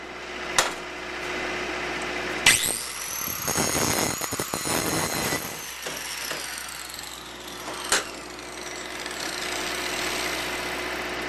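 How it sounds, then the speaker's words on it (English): Angle grinder cutting a bevel into the edge of a wrought iron hand rail before MIG welding, a loud continuous whine with a steady hum beneath and harsher bursts of grinding contact near the middle, running alone. "I'm just going to put a little bevel on this edge"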